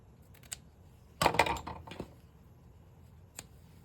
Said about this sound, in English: Oh, wrong scissors to cut the lace